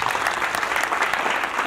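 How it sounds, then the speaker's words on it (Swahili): A church congregation claps for Jesus during a thanksgiving service, a short burst of dense, lively applause from many hands filling the room. "Tupigie Yesu makofi."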